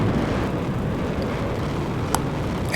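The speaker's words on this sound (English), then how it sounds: "And we just passed the speed of sound, so we are now supersonic over Miami." An F-14D jet in Flight Simulator X, flying supersonic over Miami, gives a steady, dense broadband roar with one brief click near the end.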